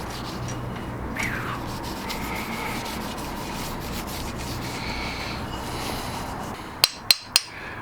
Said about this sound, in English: a little bit of Danish oil on the shaft to finish